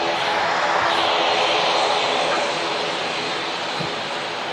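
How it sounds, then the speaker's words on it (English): An ATR turboprop airliner at Auckland Airport, a loud broad engine roar that holds steady and then eases off slightly, heard alone with no talking. "Always the ATR that wants to be seen."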